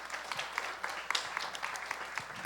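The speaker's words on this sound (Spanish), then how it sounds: "Un aplauso más para Ana Naranja, por favor." Audience at a book launch event giving a light, fairly faint round of clapping, scattered individual claps audible in a small room, with some murmuring underneath.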